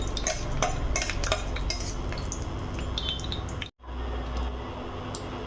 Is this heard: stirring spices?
yes